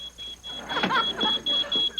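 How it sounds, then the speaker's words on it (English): A smoke alarm's shrill electronic beep repeats steadily in short pulses while people talk over it. "That sounds like the smoke alarm."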